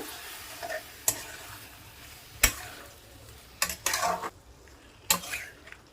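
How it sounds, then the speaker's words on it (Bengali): Cucumber curry with spices and a splash of water is stirred in a pan: a soft frying sizzle sits under intermittent sharp metallic scrapes and clinks of the utensil against the pan, with no voices. "সামান্য একটু জল দিয়ে আবার আমি কষিয়ে নেব।"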